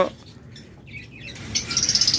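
Pet breeding-pair birds, lutino and pied pairs, chirping in a cage, a few soft calls giving way to rapid, fluttering high chirps that grow louder toward the end.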